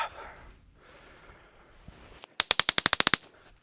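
.22 LR rifle fired rapidly at a tree, a tight burst of about ten sharp cracks in quick even succession, loud and close, after a stretch of quiet outdoor background.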